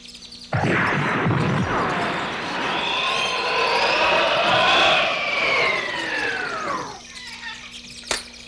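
A comic bird-call sound effect from a 1971 TV comedy show rings out as the bird flies past: one long, loud warbling whistle that swoops and bends for several seconds before cutting off.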